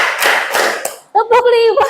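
Children clap hands in a counted rhythm, a burst of quick sharp claps up close followed by a voice chanting.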